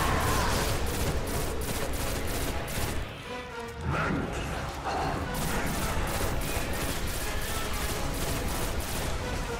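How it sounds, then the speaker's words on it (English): Dense, rapid gunfire from the video game Destiny: The Taken King rattles almost continuously, with a brief lull partway through before the shooting resumes at full intensity amid other game effects. "I know I'm shooting you"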